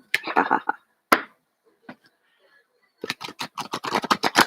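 A deck of cards being shuffled during a card reading: a short crisp riffle, a lone snap, then a fast run of sharp papery flutters toward the end, close and fairly loud with quiet gaps between.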